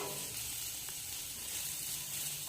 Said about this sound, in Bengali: কাঁচা পেঁয়াজ নিয়ে ঢেলে দেবো এবং নাড়বো